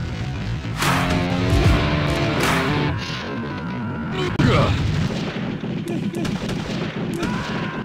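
Mortar and artillery fire in the video game Army Men 2 booms several times, with heavy blasts and rumbling impacts under a speaking voice.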